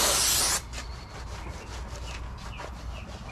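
Brake cleaner sprayed onto car engine parts from a junkyard Honda B20z2 build, opening with a loud, close half-second hissing blast, followed by a softer lingering hiss and faint dripping and rubbing.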